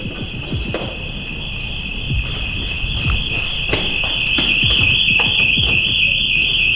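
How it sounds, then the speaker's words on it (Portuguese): A loud, steady high-pitched alarm tone blares continuously, with scattered knocks and handling thumps beneath it. "Tira o alarme. É aqui. O alarme é aqui"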